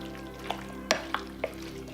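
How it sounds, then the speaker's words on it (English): Chili ingredients being stirred together in a slow cooker, with a few soft scraping clinks of a spoon against the pot spaced across a quiet background. "Mix this together."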